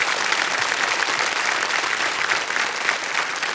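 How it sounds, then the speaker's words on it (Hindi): Enthusiastic studio audience applause on a televised quiz show, a steady, dense wash of clapping that holds at an even level for the whole stretch. "एक बार जोरदार तालियां फिर से बज जाए इनके लिए।"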